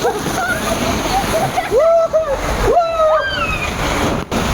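A rushing wash of splashing water on a ride at Krushnai Water Park in Pune, heard up close under loud, excited voices talking and calling out.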